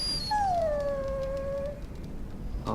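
A warhound dog in the Dragon Age video game gives one drawn-out howl that falls in pitch, loud and close, with no voices over it.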